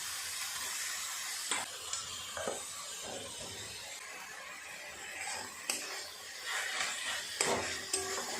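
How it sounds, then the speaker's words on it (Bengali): Banana flower and mashed boiled potato filling being stirred in a pan for mochar chop, a scraping spatula scuffing the pan in irregular strokes over a soft steady sizzle, with a few sharper knocks. "এখন পুরটাকে এইভাবে নেড়ে চেড়ে শুকনো শুকনো করে নিতে হবে।"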